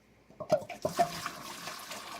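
Dirty water dumped out of a hookah base, a quick gush and splash that spills into a sink, then fades into a soft lingering trickle of running water.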